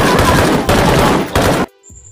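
Rifle gunfire from the action film Headshot rattles in loud, dense bursts of rapid shots, broken by two brief gaps before cutting off abruptly into near silence.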